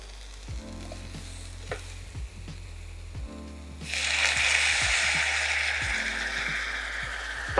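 A sharp burst of loud sizzling erupts midway as water hits a hot pan of vegetables with turmeric, continuing as a steady hiss after a few quieter knocks and stirring sounds.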